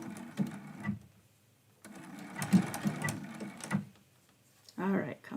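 A home sewing machine runs a blanket stitch along the edges of appliquéd candy canes on a quilt-as-you-go Christmas block, in short mechanical bursts with pauses between, heard close and clear without talk over it.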